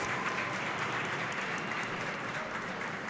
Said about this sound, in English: Gets a round of applause from the Bulls faithful